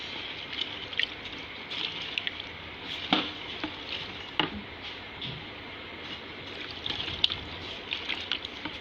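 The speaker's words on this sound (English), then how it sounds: "I'm stirring harder so that the mixture will be faster." A liter of alcohol mixture for hand sanitizer is stirred hard in a container: a steady, wet swishing wash with scattered sharp taps and clinks, close and fairly quiet, no talking.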